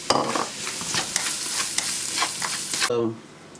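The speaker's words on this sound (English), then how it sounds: "boiled potato, I'll fry for a little while." Boiled potatoes frying in ghee sizzle steadily in a pan, with scraping stir strokes and clinks for about three seconds before the sizzle drops away.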